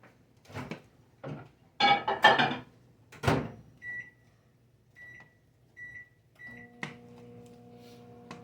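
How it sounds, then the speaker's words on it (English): Clattering as something is placed inside and a door shuts, then a few beeps followed by the low steady hum of a microwave oven starting up. "And then I got to put this in the microwave."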